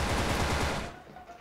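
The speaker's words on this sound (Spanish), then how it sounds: "pueden sufrir las consecuencias de los disparos de afuera" Rapid automatic gunfire from the online shooter WolfTeam, a loud dense burst that fills the first second and then cuts off, leaving a faint fading tail.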